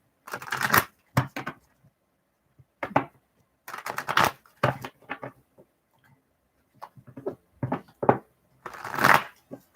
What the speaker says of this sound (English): Let me just shuffle the cards a little bit